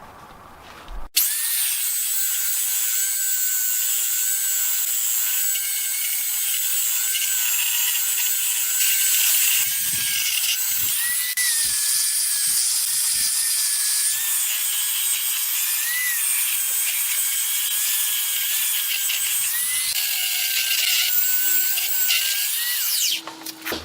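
A power sander whirs with a continuous high-pitched grind sanding the sides of a barn wood mantel for most of the clip, stopping abruptly at the end, with faint knocks underneath.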